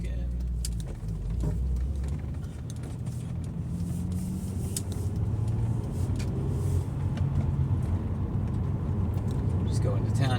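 Acura CL Type-S fitted with a Comptech Icebox intake, driven normally below 3,000 RPM: a steady low engine drone and road rumble from inside the cabin, with someone talking over it throughout.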